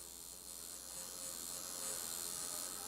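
A coil tattoo machine runs steadily, its armature bar producing a faint, continuous electric buzz with a steady hum and no pauses.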